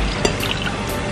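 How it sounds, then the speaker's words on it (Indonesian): About 200 ml of water poured into a blender jar already holding carrot, giving a steady, close, loud splashing stream throughout. "Tambahkan sisa air yang tadi 200 ml. Saya kasih masuk lain di dalam blender"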